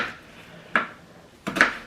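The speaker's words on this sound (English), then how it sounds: "I'm just roughly chopping these onions up." A knife roughly chops onions on a board, giving two crisp, fairly loud chopping knocks spaced apart over quiet kitchen background.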